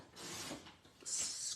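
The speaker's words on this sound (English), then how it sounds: "I want to use the dark coloured blade to trim, to cut it rather than the lighter blade to" A paper trimmer's dark-coloured cutting blade slices through cardstock during card stamping, giving a short close rasping scrape that eases off midway, then a brighter, louder hiss as the blade runs on.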